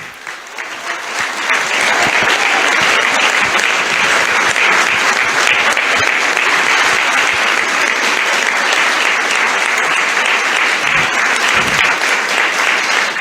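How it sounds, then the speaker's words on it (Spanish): A hall audience applauds journalist Pedro Brieger as the Mothers of Plaza de Mayo honor him, the clapping swelling within two seconds into sustained loud, dense applause that holds steady to the end. "para quien pido un fuerte aplauso"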